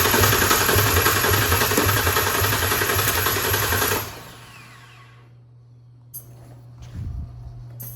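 A Ford Ranger engine with an anti-theft fault cranks steadily on a jumper for about four seconds without firing. Quiet follows, broken by a couple of faint clicks and knocks.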